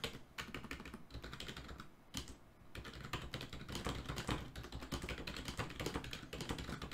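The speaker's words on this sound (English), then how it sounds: "That is some extreme typing I'm hearing." Rapid, continuous clatter of keys on a computer keyboard, dense and unbroken except for one short pause, heard up close with no voices.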